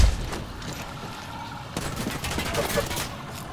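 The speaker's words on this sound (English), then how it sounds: "And there's another team shooting at you?" Enemy squad gunfire in the battle royale game Apex Legends, rapid bursts of shots crackling at moderate distance and building toward the end, with players talking over it.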